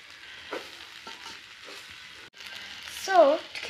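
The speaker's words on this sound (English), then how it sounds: "And now we stir it." Food stirred in a cooking pot with a spoon gives soft, faint scraping over a low sizzle, rising to a louder scrape near the end.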